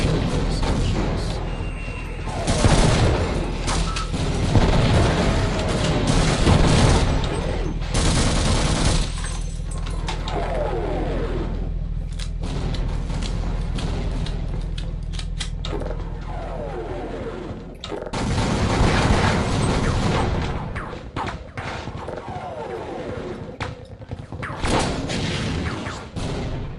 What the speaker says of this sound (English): Now they're bombing the place.